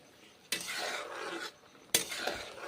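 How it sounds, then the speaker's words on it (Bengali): Curry stirred in a pot, two distinct scraping passes of a spoon against the metal, each starting with a sharp clink and lasting about a second, close and alone. "তারপরে নেড়ে চেড়ে রান্না করছি"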